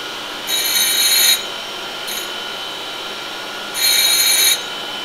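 Surface grinder wheel being dressed to a 45 degree angle, with two loud high-pitched grinding passes of about a second each over a steady machine hum and a brief faint touch between them.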